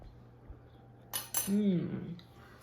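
A knife cutting through soft stuffed mini peppers with cream cheese on a plate, a couple of brief clinks and scrapes followed by a short squeaky slide, close and fairly quiet.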